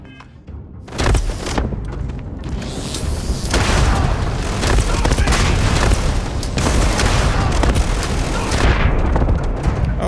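Grenade blasts boom in the Starfield video game, a loud, continuous barrage of heavy explosions and gunfire-like cracks that erupts after a brief quiet start and keeps rumbling without pause.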